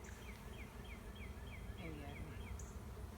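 Honeybees swarm and buzz densely around a person's face and head while a bee beard forms, a steady close drone with thin whining wingbeats, as a voice talks briefly over them.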